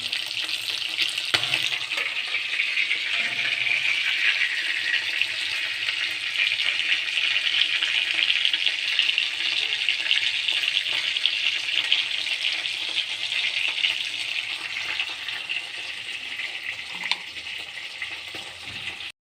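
Chicken pieces fry in hot oil in a kadai, giving a steady, loud, close sizzle that runs without a break and with no talking.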